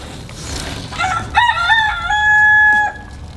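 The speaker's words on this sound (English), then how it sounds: "Here goes the rooster" A rooster crows loudly and close by, a long drawn-out call that rises and holds before breaking off, with faint chatter-like noise before it.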